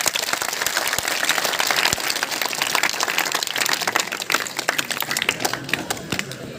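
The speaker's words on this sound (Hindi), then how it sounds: "उन 6-7 के लिए कम से कम एक जोरदार ताली दो।" Students at a Gandhi Jayanti school quiz event clap together in a steady, moderately loud round of scattered hand claps that continues throughout without talk.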